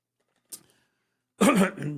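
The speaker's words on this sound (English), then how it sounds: "Excuse me for all the coughing." A short throat-clearing cough, then after a pause a louder, harsher cough, both alone with no talking.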